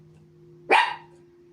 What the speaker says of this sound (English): Even Lily, the lion, is barking